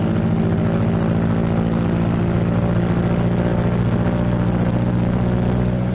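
A Martin B-26 Marauder piston engine run up to 2,000 RPM for a prop check, a steady, loud, unbroken drone that holds constant throughout.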